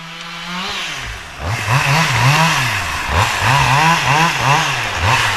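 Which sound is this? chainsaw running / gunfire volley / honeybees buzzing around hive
chainsaw running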